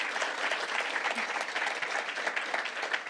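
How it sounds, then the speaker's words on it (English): A room full of conference attendees at a food waste summit clapping for panel speakers, steady dense applause from a crowd, even and sustained throughout. "You can sit in the chairs and give them a round of applause."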